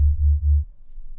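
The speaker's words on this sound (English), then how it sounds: "It's just 2 saw waves that are detuned against each other." Deep jungle bass synth built from two detuned saw waves, droning low with a slow pulsing wobble, then a quieter lower tail; brief and isolated with no talk.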